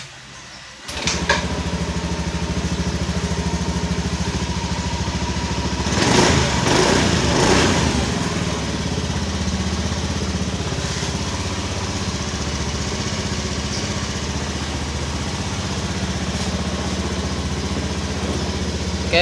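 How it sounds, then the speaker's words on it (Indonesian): A Honda Beat scooter engine, just brought back to life after a broken body or CKP sensor wire was fixed, starts up and idles steadily and close by, with a brief rev partway through before settling back to an even idle. "ini motornya udah bisa nyala"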